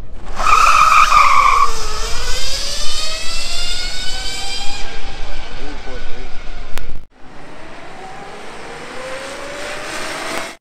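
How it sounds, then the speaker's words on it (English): A Formula SAE electric race car with a sprocket and chain drive whines past, its high-pitched grinding tone sweeping up and down loudly before cutting out, then returning fainter. "since they're typically using sprockets and a chain, they can have a high-pitched grinding noise."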